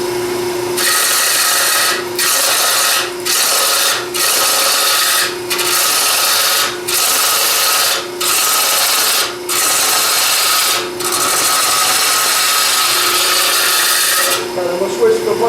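A woodturning lathe tool cuts into the dense edge grain of plywood, glue layers included. It makes a loud, harsh, hissing scrape in repeated passes, each a second or so long, separated by short regular pauses.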